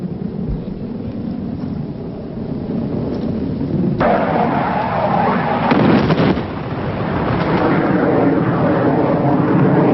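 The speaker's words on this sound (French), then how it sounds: "ne reflètent pas l'intensité du pilonnage israélien qui a commencé à midi" Israeli artillery and air bombardment recorded for a 1982 television news report, heard as a rumbling, roaring wash of distant blasts with a sharper burst about midway, loud and continuous with no talk.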